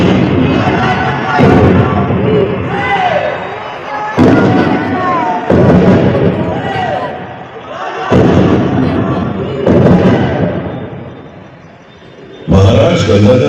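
Booming cannon salute in a light and sound show at the Jhansi fort honouring Maharaja Gangadhar Rao, with repeated heavy blasts roughly every two to four seconds under narration and music.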